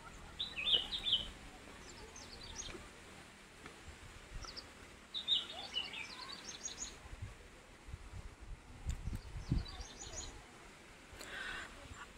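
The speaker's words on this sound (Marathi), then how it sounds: "तुम्ही बघू शकता आजूबाजूला मस्त पक्ष्यांचा चिवचिवाट" Birds chirp and call in short bright bursts around a temple in the Konkan hills on a misty morning, scattered over faint outdoor background noise with no talking.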